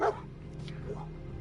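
A dog in the video game Fallout 4 gives one short, sharp bark at the start, followed by low game ambience with a voice talking over it.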